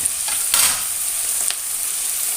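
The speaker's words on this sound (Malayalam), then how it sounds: "അത് നല്ലോണം ഒന്ന് വഴറ്റിയെടുക്കാം" Sliced onion and green chillies sizzle steadily in a hot pan, stirred with a couple of brief scraping strokes, with no voices.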